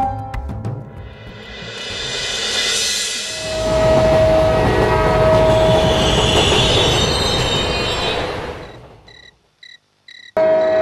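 Cartoon train running on rails, a loud rumbling roar building up and passing with drawn-out wheel squeal and metallic ringing tones, then fading into a few short high beeping tones near the end.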